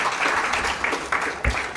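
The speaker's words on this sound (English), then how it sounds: "Clap for him, please, as he comes to address." An audience at a conference hall claps together, giving a dense, steady roar of applause for a speaker about to take the stage. It runs continuously and moderately loud without pause.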